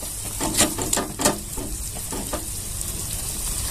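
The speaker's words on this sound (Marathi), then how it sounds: "आता ही चटणी आपल्याला याच्यात छान अशी भाजून दे घ्यायची तेलामध्ये कमी गॅसवरच आपल्याला छान असं भाजून घ्यायचं आहे" Green chili thecha frying gently in oil over low heat, a soft steady sizzle with a few brief spattering crackles early on, close and alone.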